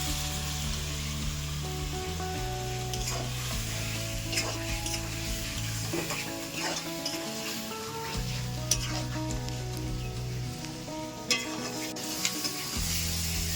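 Garlic, chili paste and spices sautéing in a pan for a boal fish curry, with a dense continuous sizzle and bursts of spatula stirring, plus a low droning hum underneath.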